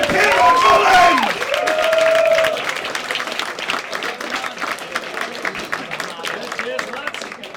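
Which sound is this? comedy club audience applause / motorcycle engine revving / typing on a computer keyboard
comedy club audience applause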